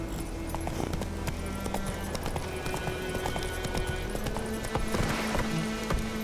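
Rhythmic clip-clop of horse hooves at a steady trot in The Witcher 3, fairly close, with faint background music and no talking.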